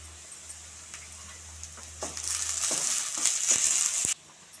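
Urad dal, chopped onion and green chilies sizzle and crackle in hot oil with mustard seeds, a bright continuous hiss that swells midway with stirring scrapes, then drops suddenly near the end.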